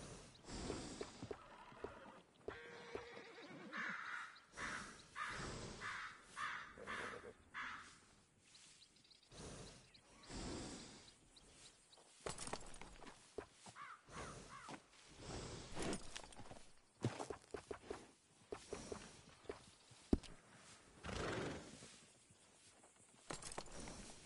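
A horse in the Red Dead Redemption 2 video game whinnies and snorts while hooves clop on the ground, in game ambience with occasional birdsong, lasting around twenty-five seconds.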